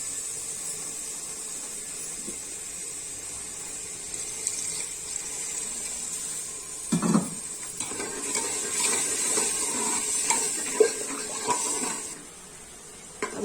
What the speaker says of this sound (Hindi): इसमें थोड़ा सा हम पानी डालेंगे।